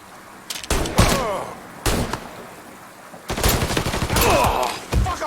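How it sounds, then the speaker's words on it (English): Gunfire in the video game Mafia III: sharp shots and bursts crack repeatedly at close range, with clusters of rapid fire and ringing tails amid game ambience. "Fucker won't stop shooting!"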